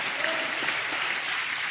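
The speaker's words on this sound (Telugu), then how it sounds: "చప్పట్లు కొడుతూ స్తోత్రాలు చెప్దాం" A church congregation claps during worship, a dense, even burst of many hands at moderate distance, short and steady.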